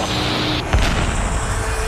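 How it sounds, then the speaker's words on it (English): A single loud boom as a small turboprop plane is struck on impact by a 737 at a hilltop crash site, a sharp burst over a rumbling low background. "There's an explosion on impact, and the small plane bursts into flames."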